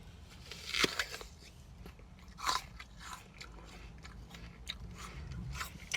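Solid food being bitten and crunched after a day of only protein shakes, with a sharp bite near the start and another a couple of seconds later, then softer chewing crunches, close and alone with no talk.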